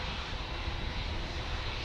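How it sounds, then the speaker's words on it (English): Jet2 Boeing 737-800 airliner at Manchester Airport, a steady broadband engine roar held at constant level throughout, no voices over it. "I've got the grey-tailed Jet 2, 737-800 off to Hania."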